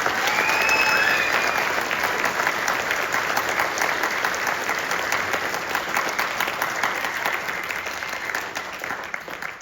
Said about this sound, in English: How about a huge hand for our custodians?